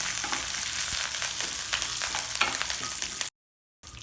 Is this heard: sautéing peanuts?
yes